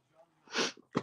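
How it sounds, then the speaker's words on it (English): One sharp, close human sneeze with a quick intake before the burst and a second short expulsion right after, inside a quiet room. "I'm going to sneeze."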